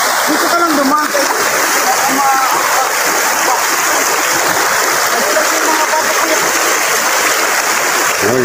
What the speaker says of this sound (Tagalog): Ayun, malaking ilog to